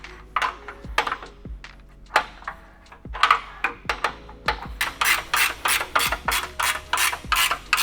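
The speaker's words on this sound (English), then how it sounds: "Grab our bolts and nuts, run it through, and tighten them down just like the last ones." Bolts and nuts being tightened on a bike rack made for e-bikes: repeated raspy ratcheting strokes in quick bursts, with metallic clicks, growing faster and denser toward the end, close and clear.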